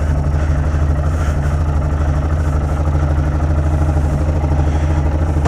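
A motorcycle idles near its fuel reserve, the engine running with a loud, steady low rumble and mechanical clatter close by, no voices.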